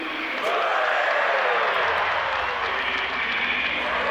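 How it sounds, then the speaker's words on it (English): Roaring arena crowd in the video game Battle Brothers, a loud continuous wash of cheering that swells early and holds steady throughout. "Let's give the crowd something to blow out my eardrums for."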